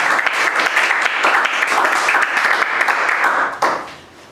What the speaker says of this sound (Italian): fai poi l'applauso